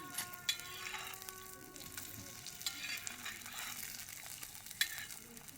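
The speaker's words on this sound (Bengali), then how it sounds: "সূর্যের আলোয় ডিম ভাজা এটা" An egg fries in a pan heated by sunlight, giving a steady soft sizzle throughout with a few faint clicks, close by and without talk.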